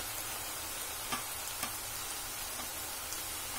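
Onion pakoda batter fries in hot oil with a soft, steady sizzle, faint and even, broken by a few light taps and crackles.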